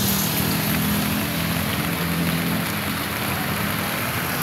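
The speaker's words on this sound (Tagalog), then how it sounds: "Medyo konti na lang yung ulan." Steady rain falls continuously in Manila, Philippines, a dense hiss of drops on surfaces with a low rumbling undertone, close and fairly loud, with no voices.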